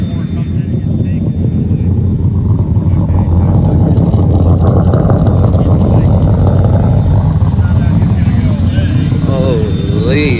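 A Ford Mustang Foxbody engine swapped into a BMW E36 runs loud and close, a continuous rumbling drone with a shifting pitch, while voices talk over it.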